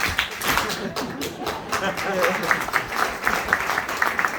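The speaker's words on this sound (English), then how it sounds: "If you're happy that he's leaving, clap your hands" An audience at a roast claps along, a fairly loud spread of many hands clapping with some cheering or voices mixed in throughout.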